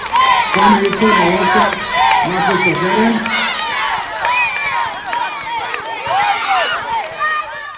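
Young football fans of FK Jagodina cheering during a player visit at the Goran Ostojić school in Jagodina, a loud crowd of children shouting and chanting continuously at close range.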